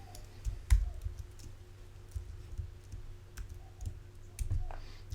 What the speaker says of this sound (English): So I'm going to type in my CURP here.